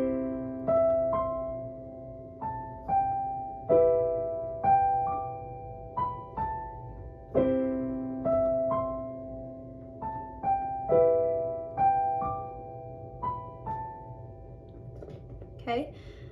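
Piano plays a song with both hands, slow sustained chords struck every couple of seconds with a soft higher melody ringing over them, quiet and close, alone.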